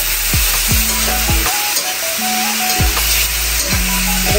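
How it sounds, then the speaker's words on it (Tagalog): Loud, steady sizzle of pork and mung beans frying in a pan, with a spatula scraping and stirring in repeated strokes roughly every half second, close up and without talk. "Haluin ko lang."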